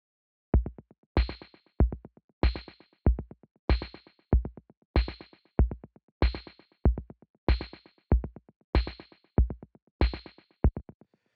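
Roland CR78 drum machine samples run through a saturator, delay and compressor, playing a regular looping pattern of sharp hits with echoing tails, crisp and isolated with no voices.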